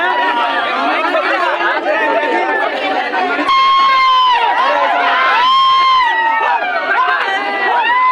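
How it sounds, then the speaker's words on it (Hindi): A dense crowd chatters and calls out at a birthday cake cutting in Gorakhpur's V Park, many overlapping voices close by with occasional shouts and whoops rising above the steady hubbub. "दोस्तों यहाँ देख सकते हैं कुछ ज्यादा भीड़ लग चुकी है।"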